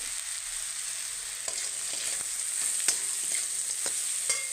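A fried bread pakora filling with peanuts is stirred in a pan, giving a soft steady sizzle with intermittent scraping and tapping strokes of the spoon, close and fairly quiet, with no voices.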